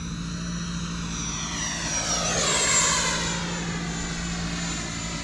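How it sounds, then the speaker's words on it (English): An F-18 jet aircraft on its second flight roars steadily overhead, its whining engine tone swelling as it passes close about midway and then easing off, continuous with no talking. "Gear up. Second flight with the F-18"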